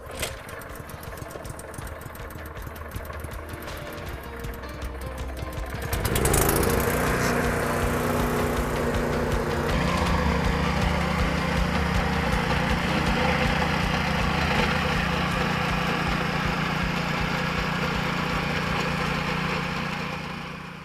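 A rear-tine garden tiller's small engine catching after a recoil pull: irregular cranking, then a sudden roar that settles into a steady, loud, close idle that runs to the end.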